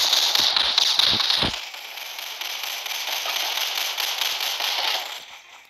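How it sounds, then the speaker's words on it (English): Rapid crackling bursts of machine gun fire ring out in the Tower Defense Simulator video game, a dense rattling stream with a few low thumps early on, fading slightly toward the end. "now we all have machine guns on. We can destroy him."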